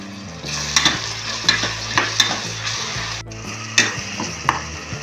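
Onions and tomatoes sauté in a pan for mutton biryani, crackling and sizzling steadily while a utensil scrapes and stirs in repeated strokes, close and fairly loud.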